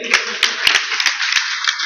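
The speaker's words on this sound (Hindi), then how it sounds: "तालियां बजती रहनी चाहिए" An audience at a live religious stage gathering in Vrindavan applauds steadily as a donor is called onstage, with a dense wash of many hands and a few louder individual claps standing out.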